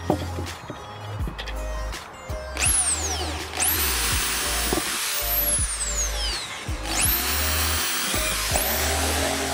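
A power drill bores holes into wooden boards for furniture, with loud whining spin-ups and sweeping pitch changes in several bursts, close by and running almost continuously.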